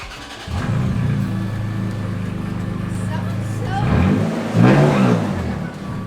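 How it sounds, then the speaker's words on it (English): A Toyota Tacoma pickup with its muffler removed idles with a steady low rumble, then revs twice with rising, louder bursts near the end, heard close up with faint background voices. "would you like to hear what the truck sounds like with no muffler?"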